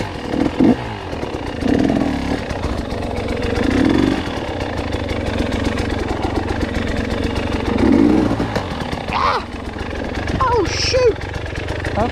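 A motorcycle ridden on a wet, mossy single track in rain, its engine droning steadily close by with rising and falling throttle throughout, and a voice briefly heard over it.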